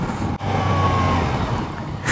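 Steady engine drone and wind rush while riding a 2016 Yamaha FJ-09 motorcycle, a continuous close hum with a brief dip partway through, no voices.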